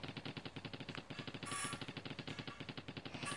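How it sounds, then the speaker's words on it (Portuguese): A keyboard app plays a synthetic gunfire sound effect as keys are tapped, giving a fast, steady rattle of repeated shots like a machine gun, loud and close, with no talking. "fica o barulho de arma mesmo, dando tiro"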